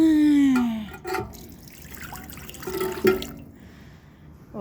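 Water begins to run and trickle in a light, uneven stream with gurgles and small splashes, heard close, while a child and an adult cry out excitedly over it.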